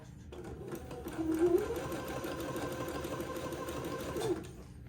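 Close, fast, even whirring of a sewing machine zigzag-stitching a lace panel for a baby bonnet, running steadily for several seconds and then stopping.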